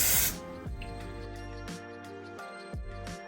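Wig glue sprayed from an aerosol can during a lace wig install, a loud close hiss at the start followed by quieter short bursts, with no talking.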